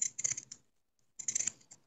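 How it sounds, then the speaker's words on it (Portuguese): Pinking shears cutting fabric for a cloth rabbit, two close bursts of rapid crisp snipping separated by a short silence, with a final snip starting at the end; no speech. "Eu vou cortar com tesoura de picote."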